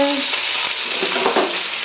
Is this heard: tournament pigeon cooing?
no